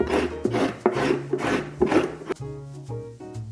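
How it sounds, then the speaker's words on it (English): A carrot shredded on a grater in repeated rasping strokes, about five rhythmic passes, close and fairly loud, followed by a quieter stretch with faint background music and no talking. "Prepare a carrot and shred it."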